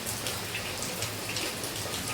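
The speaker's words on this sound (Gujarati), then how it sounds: "ફૂલ વરસાદ ચાલુ થઈ ગયો છે" Steady heavy rain pours down, a dense continuous hiss of drops pattering on surfaces with no pauses.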